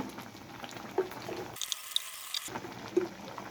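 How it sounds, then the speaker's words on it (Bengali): A pot of mixed vegetables coming to a boil, bubbling and hissing steadily with a few small pops and a brief muffled gap in the middle, no voices. "দেখুন সবজিটা বলক এসে গিয়েছে।"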